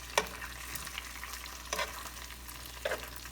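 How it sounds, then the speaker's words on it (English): Butter melting over low heat in a pan of Brussels sprouts with balsamic vinaigrette gives a soft, faint sizzle, broken by three brief bursts of stirring and scraping. "Add a couple of pats of butter. Let that melt."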